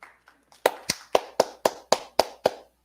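Slow, even hand claps, about eight firm, evenly spaced strikes after a couple of softer taps. They sound like one person clapping close by while watching a local school board meeting.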